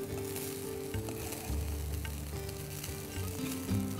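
Puliogare rice mixture being stirred in a hot pan, with a steady, loud sizzle and crackle running throughout and a tonal hum beneath.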